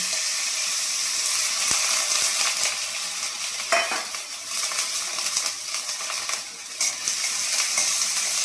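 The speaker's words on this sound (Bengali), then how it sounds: "কড়ার তেল গরম হয়ে গেছে, আমি কড়ার মধ্যে কি করব, পেঁয়াজটা দিয়ে দেবো।" Onion tipped into hot oil in a kadai, sizzling and crackling steadily at close range with a few sharp clinks and stirring scrapes, no voices.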